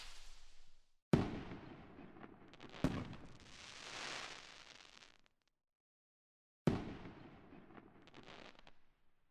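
Fireworks go off over a residential street on the Fourth of July, three fairly faint, sharp booms, each trailing into a crackling decay, with a silent gap between the second and third.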